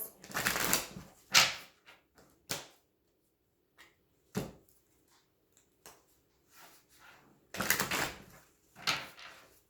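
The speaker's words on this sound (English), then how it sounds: "2 more shuffles." Close, crisp bursts of tarot cards being shuffled, several quick riffles separated by short pauses and soft handling taps.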